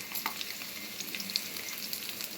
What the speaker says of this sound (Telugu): 2 పచ్చిమిరపకాయలు, కొంచెం అల్లం ముక్కలు వేసి వేయించాం.